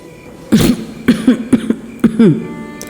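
A run of short, sharp coughs in quick bursts, about five or six, from someone choking on food, close and fairly loud over a quiet room hum.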